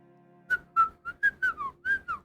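A person whistles a quick, wavering run of eight short notes, each a clear tone with breathy edges, close to the microphone with brief silent gaps between them and no talking.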